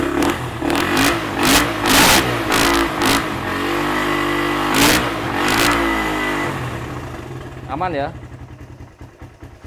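A used motorcycle engine revs in loud repeated bursts and then drops back to a steady idle, heard close up with a person speaking briefly over it.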